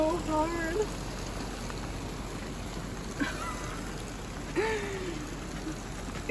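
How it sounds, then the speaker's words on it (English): Steady heavy rain drums on an RV during winter camping on Vancouver Island, a dense continuous patter close by, with a voice speaking briefly over it. "It is raining so hard."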